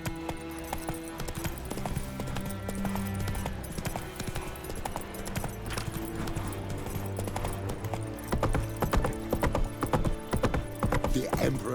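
The horse Roach trots in a video game, with rhythmic hoofbeat clip-clops running throughout over a layer of game music and ambience, growing a little louder toward the end.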